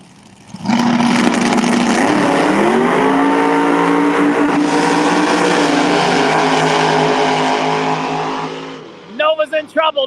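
A Street Outlaws No Prep Kings drag race car at GALOT Motorsports Park roars loudly for about eight seconds, its engine note climbing, then cuts off into a quick series of sputters and pops as the car lifts.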